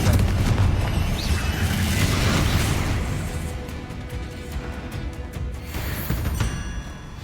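A Confringo spell explodes in Hogwarts Legacy, a loud booming blast that rolls out into a long crashing rumble and slowly fades under game noise.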